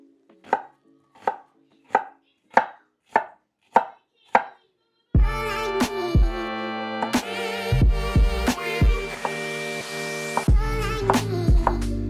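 A knife chops half an onion on a cutting board, cutting it small for turkey burgers: seven crisp, evenly spaced chops close by, then louder tonal music takes over.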